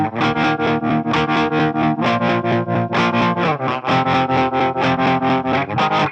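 Electric guitar chords through an Electro-Harmonix Nano Pulsar tremolo pedal set all the way up, the volume chopping in a fast, steady pulse of loud repeated throbs with no talking.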